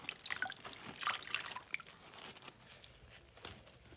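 Salted napa cabbage, softened after hours of pickling, being squeezed by hand so brine drips and trickles away: close, quiet wet squishing with scattered drips and splashes, loudest early and fading toward the end.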